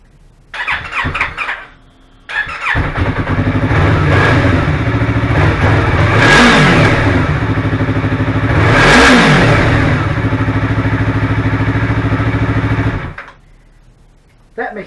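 A Yamaha R3 motorcycle under restoration starts with a short cranking burst, then idles loud and close before two rising revs swell and fall away, the engine cutting off near the end.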